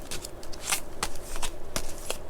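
Two decks of tarot cards shuffled by hand, a run of crisp riffling flutters and sharp card snaps at an uneven pace, close and clear, no talking.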